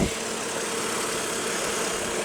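A 2016 Lexus ES350 engine runs smoothly at a steady idle, a constant close hum with a broad even hiss and no talking over it.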